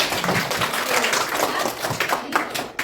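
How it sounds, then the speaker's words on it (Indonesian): A school class in a classroom claps their hands together in a short burst of dense, scattered clapping, fairly close and loud. "Mari tepuk tangan dulu untuk semua kita"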